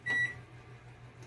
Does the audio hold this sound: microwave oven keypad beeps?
yes